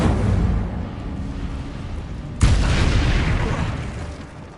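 An Incendio fire spell cast in the Hogwarts Legacy video game, landing as one sharp burst midway through and followed by a roaring whoosh that slowly fades over steady game ambience.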